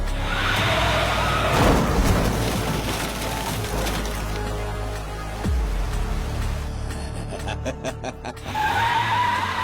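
A car pulls away in a tense action film scene, its engine rumbling loudly over a busy mix of music and effects, with a possible skid partway through.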